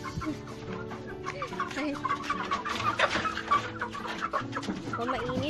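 Rooster and hens clucking repeatedly around a backyard coop, close and fairly loud, with a brief voice in the middle.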